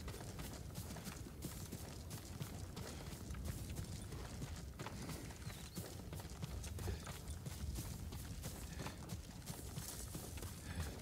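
Horse hooves clip-clopping in the video game Ghost of Tsushima, a faint, continuous patter of steps under steady ambient noise throughout.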